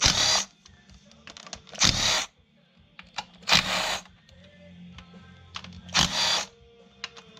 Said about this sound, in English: your 12-inch extension and your impact driver, and you take out all these bolts